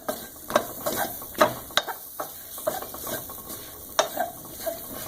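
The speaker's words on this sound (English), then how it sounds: "let's stir up these bananas here." Bananas stirred with cinnamon in a hot pan, a soft sizzle broken by repeated clicks and scrapes of a utensil against the pan at an uneven rhythm.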